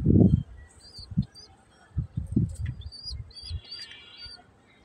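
Low throaty coos from pigeons kept in a loft come in uneven pulses, one louder up close at the start, with faint high chirps scattered over the top.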